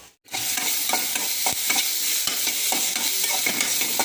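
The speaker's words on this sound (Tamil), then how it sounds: "நல்லா வதக்கட்டும்." Onion and capsicum sauté loudly in a hot pan, a dense close sizzle with quick spatula scrapes and taps breaking through, starting after a brief silent gap at the beginning.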